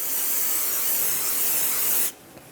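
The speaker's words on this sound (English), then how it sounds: "Use some brake parts cleaner and a clean rag." An aerosol can of brake parts cleaner sprays onto the braking surface of a front brake rotor on a 2008-2012 Honda Accord. It makes a steady, close, loud hiss lasting about two seconds that cuts off abruptly, followed by faint handling noise.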